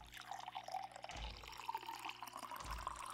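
Water poured for coffee in a barista simulation game, a soft continuous trickle and splash set against low background music, with nobody talking.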